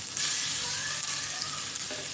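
Ginger and garlic sizzle loudly in a pot for Nigerian jollof rice, a dense steady frying hiss with faint stirring scrapes throughout.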